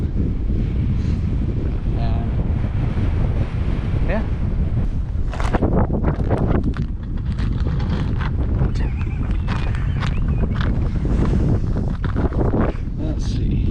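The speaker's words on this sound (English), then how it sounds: "Pretty windy out here." Strong wind gusts buffet the microphone continuously out on a frozen lake during ice fishing, a loud roaring rumble with brief crackles, while someone speaks a few words.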